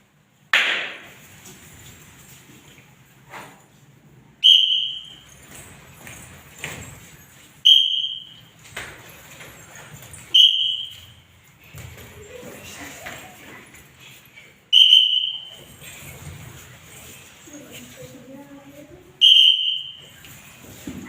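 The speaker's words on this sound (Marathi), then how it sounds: "त्याच्यानंतर शिट्टी आहे माझ्याकडे" A hand whistle gives about six short, shrill, piercing blasts at irregular gaps of a few seconds, loud and close, with a person talking in between.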